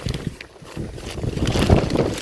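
Wind gusting across an outdoor vegetable garden where basil seedlings grow, a loud rumbling buffet on the microphone that swells and fades unevenly over a couple of seconds.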